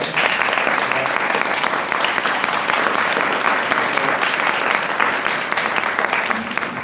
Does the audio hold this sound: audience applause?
yes